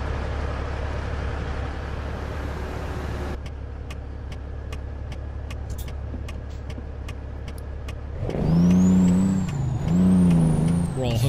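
Air brakes on a truck trailer in American Truck Simulator: a steady engine idle, then a run of rhythmic clicks, followed by a loud pneumatic hiss and a rising and falling whine.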